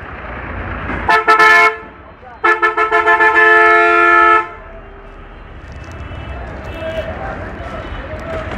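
Vehicle horns blare in a traffic jam: one short honk, then a long insistent blast pulsing several times, loud and close over road rumble, with people talking through the clip.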